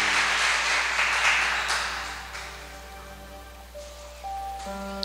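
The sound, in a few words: congregation applause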